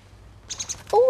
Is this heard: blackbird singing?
yes